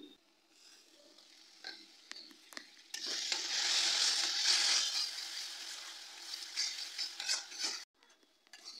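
Spice paste frying and being stirred in a kadai for a doi katla fish curry, with scraping and clinks of a utensil against the pan, and a louder steady sizzle swelling through the middle before easing off.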